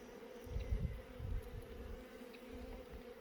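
Honeybees hum on a brood frame lifted from a hive during queen cell planting, a steady low buzz with a few louder, closer passes early on and no talk.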